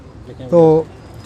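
A single pigeon coo, a soft throaty call lasting a fraction of a second, rising over faint background noise.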